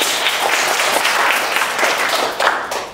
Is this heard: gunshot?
no